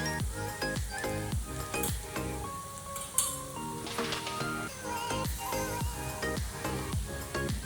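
Mustard seeds and cumin fry in a little oil for kande pohe, giving a quiet, continuous sizzle with scattered crackles and small pops.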